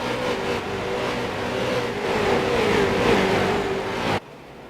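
Street stock race cars roar around the USA International Speedway in a tight pack, engines revving and swelling louder as they pass, one pitch sliding down before the sound cuts off abruptly near the end.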